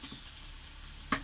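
Potatoes fried with minced meat in a pan, a steady soft sizzle and hiss throughout, fairly quiet, with a brief clink of a utensil near the end and no talking.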